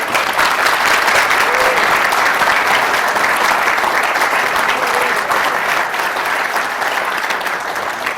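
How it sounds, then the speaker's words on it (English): A conference audience at a climate conference breakfast keynote gives a warm, loud round of applause, dense clapping from many hands that holds steady and eases slightly toward the end, with faint voices beneath. "I think he should be given a very warm round of applause for that."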